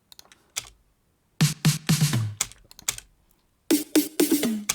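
Snare drum fill sample pitched up an octave, giving bright, tight, clicky hits in quick bursts separated by silences, dry and close with no voices.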